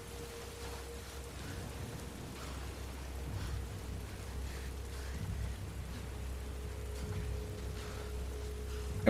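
Steady rainstorm in The Last of Us Part II, a dense continuous hiss of rainfall with a low rumbling undertone and a faint constant hum, no voices.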